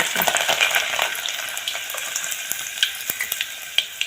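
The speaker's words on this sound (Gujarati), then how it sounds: "તો આપણે તેલ મૂકી દીધું ગેસ ઉપર આપણે રાઈ નાખી દઈએ" Mustard seeds and garlic fry in hot oil on a gas stove with a bright crackling sizzle and a scatter of sharp, irregular pops that thin out toward the end, close and fairly loud.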